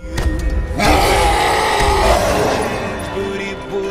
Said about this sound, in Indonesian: menabrak jendela dan membuatnya terjun bebas dari lantai 15 apartemen